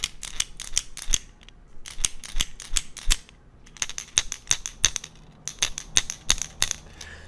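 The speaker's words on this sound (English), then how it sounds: "this is essentially a larger rattle that's gonna travel a longer distance" Rapid bursts of sharp, hard clicking from a fishing lure's internal rattle, in uneven clusters with short pauses between, close and crisp.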